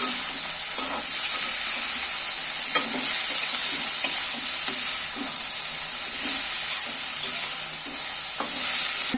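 Onions fry loudly in a pan for a peanut chicken recipe, as a strong, unbroken sizzle fills the sound, with occasional soft knocks and scrapes from stirring.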